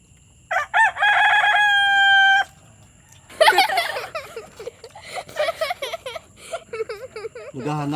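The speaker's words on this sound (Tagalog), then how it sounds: "May manok sa taas" A rooster crows loudly with a long drawn-out call, followed by a burst of excited clucking and squawking from several birds nearby.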